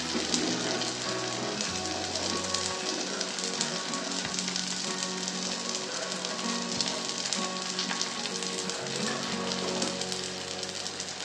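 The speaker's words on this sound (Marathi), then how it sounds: "थोडे कडेने पण तूप सोडून घेऊ आपण." Ghee drizzled around the edges of thalipeeth sizzles on a hot tava, a low, continuous hiss with light popping that stays even and quiet throughout, no voices.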